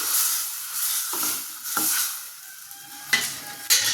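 Cooked lentil water, boiled with asafoetida, garlic and onion, is poured into a hot pan, giving a steady sizzle with several scraping stirs of a spoon against the pan.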